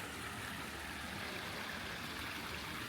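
Steady creek water flowing near a historic covered bridge in Opelika, Alabama, with a continuous broadband rush close by and no other sound.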